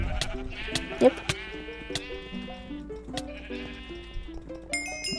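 Sheep bleat repeatedly in a video game during sheep-shearing, wavering calls layered over music-like tones with occasional clicks; a person briefly speaks.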